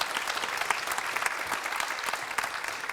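An audience at a closing event gives warm, sustained applause for a theatre team, dense clapping with no break.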